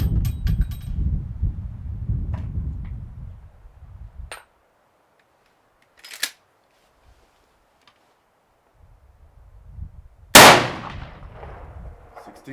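A single 45-70 rifle round fires a hard-cast, gas-checked bullet over Reloader 7 powder from a 16.5-inch barrel. The loud, sharp crack comes late and decays quickly, after a brief earlier tick and stretches of outdoor wind rumble.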